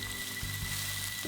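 Ground lemongrass sautéing in hot oil in a pan for a beef ribs dish, a soft steady sizzle with a couple of faint stirring knocks, fairly quiet and without talk.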